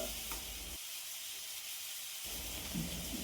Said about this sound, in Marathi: आता कांदा छान अशा प्रकारे सोनेरी रंग येईल तोपर्यंत छान असा परतून घ्यायचा आहे